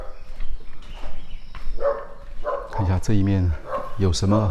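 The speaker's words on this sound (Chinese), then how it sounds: "你那狗汪汪一直在叫" A dog barks repeatedly at an abandoned lakeside mansion's overgrown courtyard, several loud, harmonic barks in quick bursts near the end, with someone talking before and between them.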